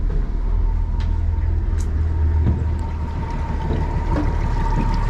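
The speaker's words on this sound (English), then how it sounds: "I'm going to just go ahead and turn the key on, fire it up, then just put it in gear." An outboard engine on a 2024 2250 WT boat runs during a water test, giving a low, steady rumble close by with a few light clicks and splashy knocks scattered over it.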